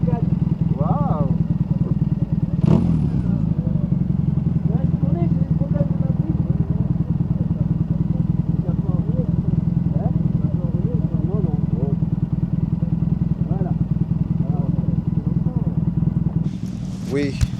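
A Moto Guzzi motorcycle engine idles steadily with a low, loping rumble close by, while people talk over it.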